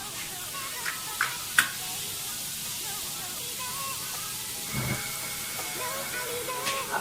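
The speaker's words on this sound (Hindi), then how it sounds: "बस इसको सौते करना है" Garlic sautéing in oil in a pan for restaurant-style chicken shashlik gives a steady, close hiss and sizzle, broken by a few sharp clinks and scrapes of stirring.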